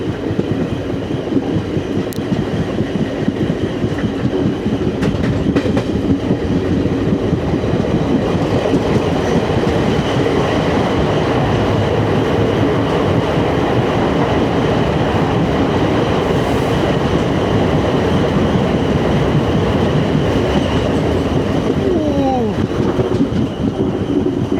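The Koyna Express from Kolhapur to Pune runs through a tunnel, a loud, steady rumbling roar of wheels on rails with rhythmic clatter and brief faint squeals, heard from inside an AC chair car.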